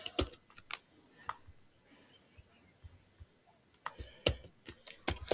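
Keys on a computer keyboard tapped in short, close bursts, a cluster of clicks at the start and another near the end with a quiet gap between, fairly soft overall.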